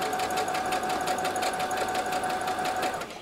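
Sewing machine running a straight stitch along fabric for a board-mounted window valance, a fast, even mechanical rattle close by that eases off at the end.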